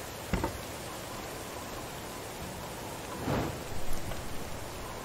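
Steady rain falls in the medieval survival game Medieval Dynasty, a continuous even patter with a couple of soft louder swells, no voices.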